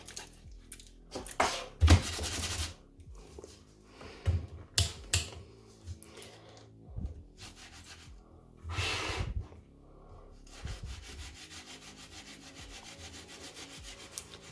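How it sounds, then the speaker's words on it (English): Kapton tape being applied and rubbed onto the housing of a DIY triboelectric nanogenerator, with close, irregular crinkles, scrapes and taps, some sharp, and a steadier rubbing toward the end. "So this Kapton tape I put on this"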